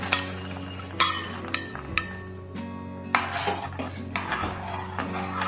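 Peanuts in salted water are stirred inside a metal pot, giving close, repeated clinks and scrapes of a utensil against the pot's sides in an uneven rhythm.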